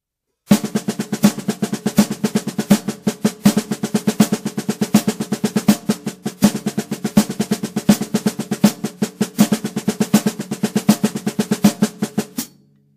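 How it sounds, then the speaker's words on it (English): Drum kit playing a single paradiddle diddle pattern linked by 16th-note single paradiddles, a steady stream of sharp, evenly spaced strokes with regular accents, loud and close, with no voices over it. "3 groupings of single paradiddle diddle, but connected by 16th notes single paradiddle."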